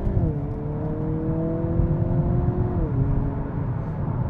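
A Hyundai Kona N engine drones steadily from inside the cabin under acceleration, a sustained loud hum whose pitch rises, dips briefly near the end, then holds.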